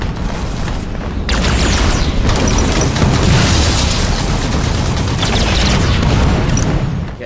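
Loud, continuous barrage of tank explosions in Halo 5 multiplayer combat, with heavy booms and crackling bursts layered densely for several seconds without a break.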